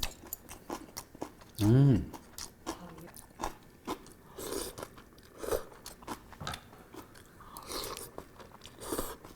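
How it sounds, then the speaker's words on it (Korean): Someone bites and chews crunchy kkakdugi radish kimchi alongside gukbap, with close, repeated crisp crunches in irregular bursts, and a voice briefly hums or speaks between bites. "깍두기 먹어야죠."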